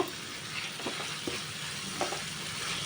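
Capsicum stir-fried in a pan, a continuous hissing sizzle with a few soft stirring scrapes, close and fairly quiet, with no talking.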